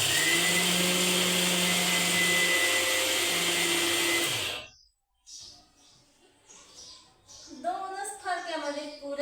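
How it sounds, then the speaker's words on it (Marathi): A kitchen mixer grinder grinds ingredients for besan ladoo with a loud, steady, high whir for about four and a half seconds, then cuts off abruptly. Speech follows in the quiet. "चला मग एवढं मी आणतो काढून मिक्सर मध्ये"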